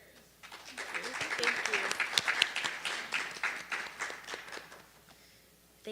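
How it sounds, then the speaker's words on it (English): A small group applauds for several seconds, the clapping swelling then thinning out, with some voices mixed underneath. "A round of applause for our"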